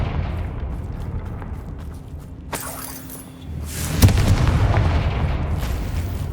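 Confringo blasting spell from Hogwarts Legacy goes off as a single sharp burst, followed by a loud rumbling boom that lingers, set against a low ambient game background.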